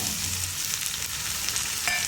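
Cut potatoes sizzle as they go into a pan of frying stuffed snake gourd, a steady hiss of hot oil with light stirring scrapes and no voices.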